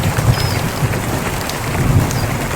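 Heavy rain pours down during a nighttime storm at a family campsite by the El Cedral reservoir, a loud steady hiss of drops on surfaces close by, with low rumbles underneath and no talking.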